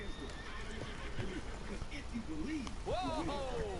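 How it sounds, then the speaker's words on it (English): A horse in a PS4 game neighs and whinnies in several rising and falling calls with some hoof clopping, fairly faint under a person talking. "Be nice to the horse."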